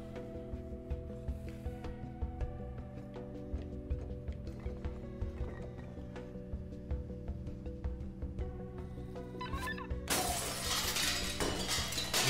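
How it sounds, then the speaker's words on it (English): In the video game Stray, the cat smashes a pane of glass. A loud, bright shattering burst comes near the end, over steady game music that plays throughout. "Smash the glass."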